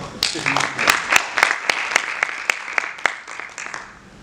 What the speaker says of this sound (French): Donc on peut s'applaudir.